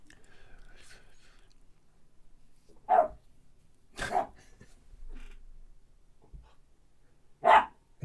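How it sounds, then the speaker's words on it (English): A three-month-old pit bull mix puppy barks from under a couch, three sharp, spaced yaps in an otherwise quiet indoor room, with faint rustling and soft speech between them. "He crawled under the couch and is now just barking under there for no reason at all."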